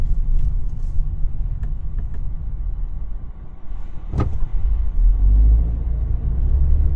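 A Suzuki Fronx 2WD with a 1.5-litre engine drives on a public road, heard as a steady low engine and road rumble from inside the cabin. A brief thump comes midway, and the rumble deepens slightly near the end.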